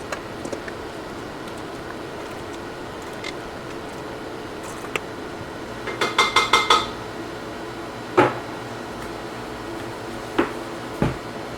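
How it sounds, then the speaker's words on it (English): Cooked apples are scooped from a slow cooker crock into a bowl, with scattered metallic spoon clinks, a quick rattle of taps, and a few sharper knocks against the dish in a quiet kitchen. "I am going to transfer the apples into a bowl"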